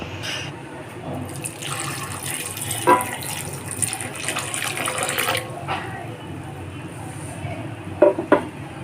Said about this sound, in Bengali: এখন জল দিয়ে এটাকে সিদ্ধ করে নেব